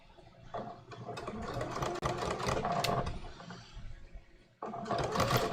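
A sewing machine runs in steady bursts while stitching floral linen shorts, close and fairly loud, pausing briefly near the two-second mark and again before starting back up.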